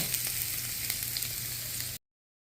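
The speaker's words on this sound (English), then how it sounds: "I start to grill it" Onions and eggplant beef stew ingredients sizzle steadily in a hot pan, a close, even frying hiss that runs without a break and then cuts off abruptly.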